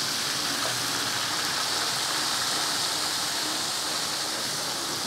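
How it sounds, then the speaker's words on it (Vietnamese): Food frying in a pan of hot oil while making crispy rice with chili in Central Vietnam gives a steady, dense, loud hiss of sizzling and bubbling, unbroken and with no talk. "Nó nổ nó sôi kiểu bong bóng đẹp quá quý vị"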